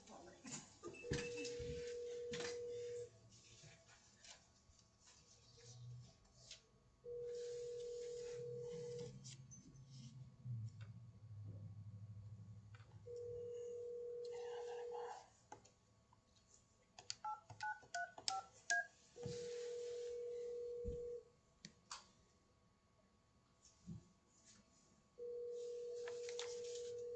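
A courthouse telephone line in a regional court repeats a steady tone in regular bursts about every six seconds, with brief key-press beeps midway, faint thumps and murmuring voices in between.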